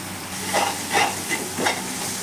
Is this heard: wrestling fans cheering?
no